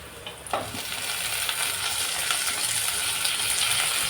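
Tomatoes hit browned onions in a hot pan for a Maharashtrian-style butter paneer, with a brief clatter as they drop in, then a loud, steady sizzle of frying that fills the rest.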